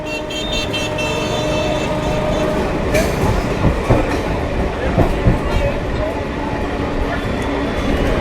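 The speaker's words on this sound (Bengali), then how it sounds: "আমঘাটা রেল স্টেশনের প্ল্যাটফর্ম থেকে ছেড়ে এই মুহূর্তে কৃষ্ণনগর সিটি জংশনের পথে" The Amghata–Krishnanagar special passenger train runs along the rail line, a loud steady rumble with rhythmic wheel clatter over the track joints, heard close by throughout.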